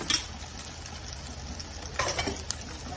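Seer fish (vanjeera) shallow-frying in a pan gives a soft, steady sizzle with a couple of brief louder crackling bursts, and no voices.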